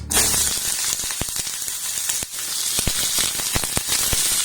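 Chopped onion hitting hot mustard oil: a loud, steady, close sizzle of frying with scattered sharp crackles and pops throughout, no voices.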